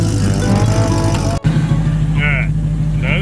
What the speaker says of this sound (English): Trying to get some heat in the engine.